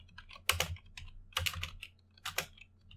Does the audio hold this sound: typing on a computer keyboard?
yes